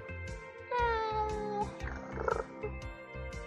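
A cat named Tazzy in the Choices story game purrs in a steady low pulsing rhythm, with a drawn-out meow-like cry layered over it partway through.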